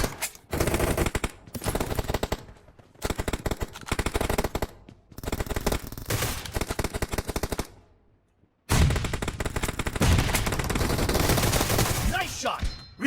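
Groza assault rifle firing unsuppressed in PUBG Mobile: loud sustained automatic bursts separated by short pauses, including one longer gap before a final long burst, with faint game voice chatter.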